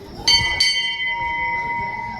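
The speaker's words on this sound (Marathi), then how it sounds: "ही यांची घंटी बाबाची" A temple bell at the Shri Kanifnath Maharaj shrine is struck twice in quick succession, bright and close, its metallic ring lingering and fading under low background murmur.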